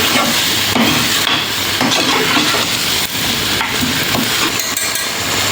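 Paneer and peas pulao being stirred in a pan, with a steady sizzle of frying and scraping strokes of a spoon running continuously and loudly throughout, no talking.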